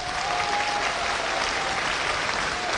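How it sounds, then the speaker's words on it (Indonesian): Audience applause at the 25th anniversary celebration of LP3I, an Indonesian education institute, after an 8 million rupiah education prize is announced; steady, even clapping continues throughout with a faint crowd murmur beneath it. "Bisa Boleh dapat tepuk tangan"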